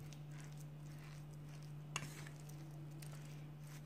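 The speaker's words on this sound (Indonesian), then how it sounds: "Kita aduk-aduk aja di sini." Steady low sizzle of garlic frying in a pan with a faint scrape of stirring and one brief clink.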